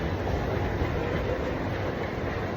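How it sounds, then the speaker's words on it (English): Walt Disney World Magic Kingdom monorail arriving at the station, a steady rumbling rush of wheels and motors at moderate distance, continuous with no voices. "There comes another Magic Kingdom monorail."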